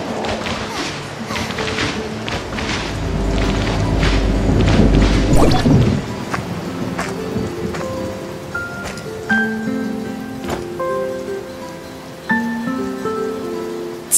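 Rain falling in the Tower of Fantasy game, a steady patter with soft taps and thuds over a low rumble for the first six seconds, then easing off beneath quiet music tones.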